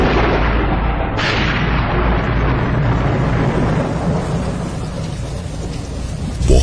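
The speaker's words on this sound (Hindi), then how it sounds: "बहुत ही तेज बारिश होने लगी और बादल गरजने लगे।" Heavy rain pours down steadily with deep rolling thunder rumbling underneath, a loud continuous storm wash with a sharper crack of thunder early on and no voices.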